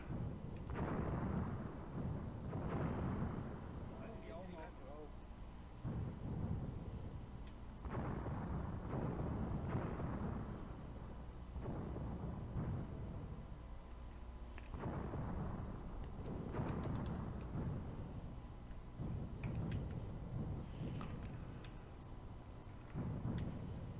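Mortar shells land in the Graviteam Tactics wargame, set at Kharkov in 1942, in a series of deep, rumbling booms. The impacts come every few seconds over roughly twenty-four seconds, sounding distant and heavy, with no voices.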